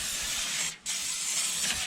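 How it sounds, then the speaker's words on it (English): Cooking spray hissing from a can onto aluminum foil for smoked salsa vegetables: two close, steady aerosol bursts separated by a brief pause, with no talking. "Just hit it with a little cooking spray to make sure nothing sticks."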